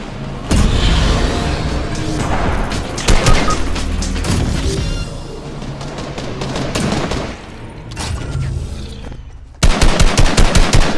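AK rifle fire in a video game: long, loud, close bursts of rapid automatic shots, a short pause, then a final crisp burst with evenly spaced rounds.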